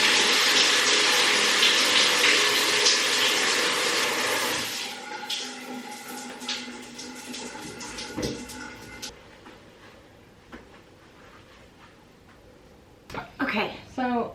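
Water runs from a home shower as a loud, steady hiss that fades out after a few seconds, followed by quieter room sounds, with someone talking throughout.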